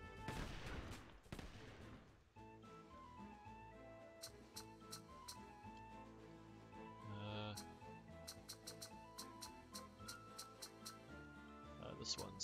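Cannon fire from a naval battle in Sid Meier's Pirates video game, several sharp reports over a steady music bed, with someone talking over the game sounds.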